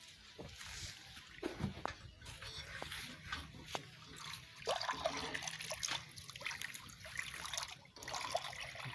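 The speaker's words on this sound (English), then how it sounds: "Pour water so that it can cool down." Water poured over hot, burning fuel briquettes to cool them, a close trickling and dribbling with soft splashes and intermittent hissy spatters, fairly faint and continuous across the whole stretch.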